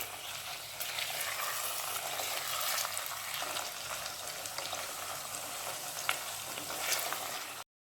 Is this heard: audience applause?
no